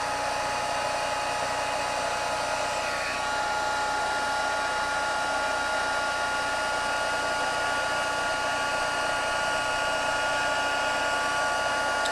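Continuous whirring blow of a heat embossing tool on its high setting warming up, a steady close hum with a faint whine, running alone without talk.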